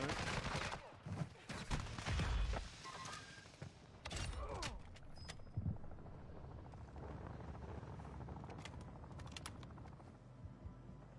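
Gunfire in the shooter game Warzone: scattered sharp shots and short bursts crack over a steady helicopter drone and background battle noise, with no voices.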